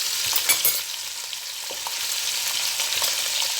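Chicken frying in a pan with onion just added, a steady close sizzle with light stirring scrapes throughout and no talking.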